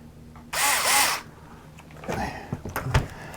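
Close, loud whir of a power driver with a 2 mm hex bit driving the pinion screws on an Axial SMT10 RC truck, one sustained burst followed by short, lighter revs and clicks.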